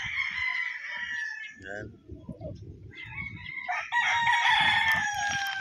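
Bull stag roosters crow loudly, with one long crow followed by several overlapping crows from nearby birds, and someone speaks briefly between them.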